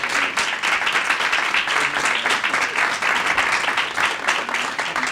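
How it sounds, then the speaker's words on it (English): Audience applause at a meet-the-candidates forum for the Peoria, Illinois District 2 council race, a steady, close wash of many hands clapping that holds at an even level throughout. "Please give all of our candidates a round of applause."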